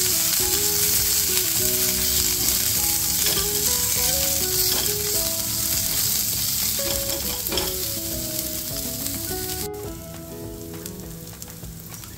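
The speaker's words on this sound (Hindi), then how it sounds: "प्याज को आप चलाते रहो ताकि प्याज जो है वो जले ना" Onions sizzling loudly in a pan of hot oil, a dense steady frying hiss close up with spoon stirring and occasional clinks throughout.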